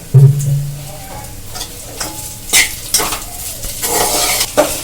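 Chicken mixture stirred and fried in white oil in a pan, a steady close sizzle with scraping spoon-against-pan stirring strokes and occasional clinks throughout.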